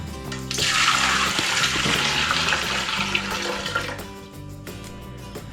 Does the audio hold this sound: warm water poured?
yes